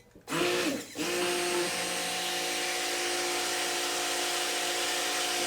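A failing handheld stick blender mixing cold process soap whirs up after a brief start-stop, then runs at a steady, slightly strained high-pitched drone, close and continuous.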